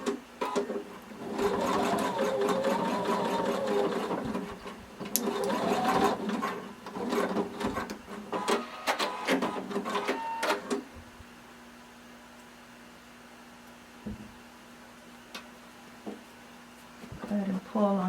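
A sewing machine stitching elastic down on a swimsuit, running in bursts of rapid whirring stitches for several seconds, then stopping while a voice talks over the quieter pauses.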